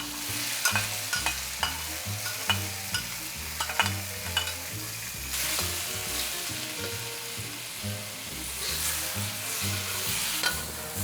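Tomatoes, shallots and green onions sear in oil in a pan over medium-low heat for a beef stir fry, a continuous close sizzle with stirring taps early on and a louder hiss later.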